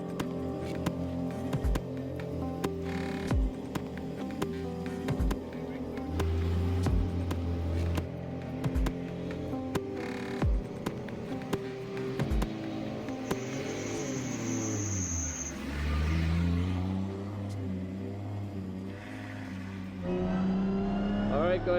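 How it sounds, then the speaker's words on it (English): A Nissan 180SX S13 drift car drives on a wet track, its engine revving and rumbling loudly and steadily with rising and falling pitch, while a voice talks over it at times. "this is a first time driving the 180SX"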